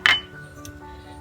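Tomatoes go into a metal pressure cooker for carrot beetroot soup, landing with one sharp clink followed by faint, quieter knocks.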